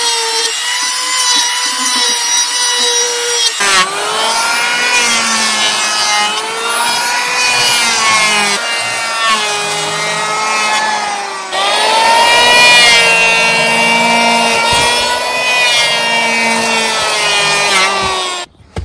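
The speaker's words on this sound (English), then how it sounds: "So we'll take the rest off with the planer." Power planer trimming a timber sleeper for a meandering garden wall, a loud steady whining cut that runs almost continuously after a brief quiet start, with shifting pitch as the blade bites along the wood.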